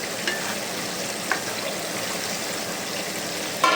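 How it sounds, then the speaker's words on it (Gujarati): Masala is stirred in a frying pan for stuffed bitter gourd, with a steady hiss of frying throughout and a few faint scrapes of the spoon, close and fairly loud, with no talking. "મસાલાને મિક્સ કરી નાખવાનું."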